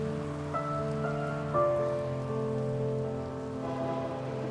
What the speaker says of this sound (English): The heavy rain.